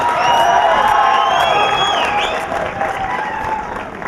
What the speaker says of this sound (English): So let's all give a nice round of applause to NTTF.